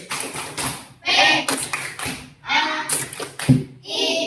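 Children in a classroom do rhythmic clap chants, with bursts of group clapping alternating with a teacher's voice and call-and-response speech.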